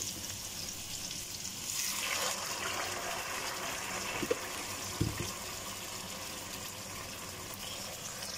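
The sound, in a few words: water poured into cooking pan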